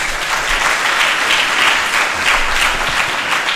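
Steady audience applause at a seminar on nonviolence, dense continuous clapping from a room full of people, loud and even throughout with no speech.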